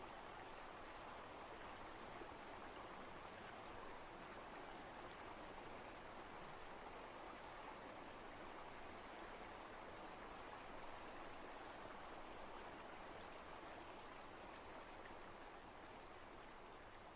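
A mountain stream flows in a continuous broadband rush of water, soft and steady throughout, with no voices or other sounds.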